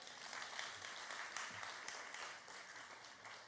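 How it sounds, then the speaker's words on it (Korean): A church congregation at a Sunday service applauds two newcomers, a continuous, fairly faint patter of many hands clapping at an even level throughout. "박수 한번 쳐주실래요?"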